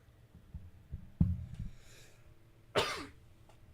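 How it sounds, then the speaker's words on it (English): A person coughs twice up close, a short cough followed a moment later by a harsher, louder one, with quiet between. "Sorry for kind of coughing in your ear."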